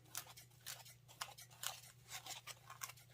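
Scissors snip in a quick, irregular series of faint, close cuts while trimming a handmade gnome nose into an oval shape, with a low steady hum underneath.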